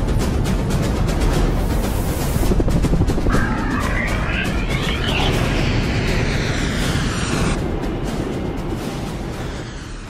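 A steady, loud whirring drone of rescue drones flying at the Motril Air Show 2024 beach rescue drill fills the scene, with a rising whine sweeping past midway as the engines shift pitch.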